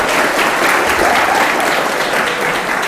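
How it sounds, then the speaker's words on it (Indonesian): An audience at a public speaking seminar in an Islamic boarding school claps loudly and steadily throughout, a close, dense round of applause. "Tepuk tangan dulu dong."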